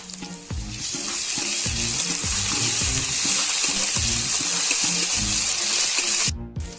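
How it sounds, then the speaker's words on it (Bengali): Ginger garlic paste fries in a pan with a loud, close sizzle and repeated stirring scrapes in an uneven rhythm, ending with an abrupt cutoff and no talking. "এখন তোমার আদা রসুনটা দেবো।"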